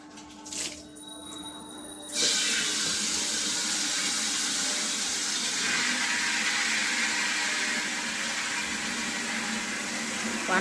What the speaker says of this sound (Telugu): లోపల ఒకటి ఉంది పైపు, కానీ చాలా సన్నంగా పడుతుంది వాటర్